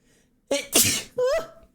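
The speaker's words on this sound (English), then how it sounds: "I have to sneeze." A single loud, close sneeze with a sharp intake and explosive burst, followed by a brief vocal exclamation right after.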